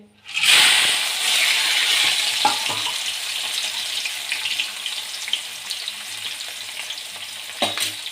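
Bitter gourd pieces coated in salt and flour hit hot oil with a loud, steady sizzle that settles into continuous frying crackle, with occasional stirring scrapes.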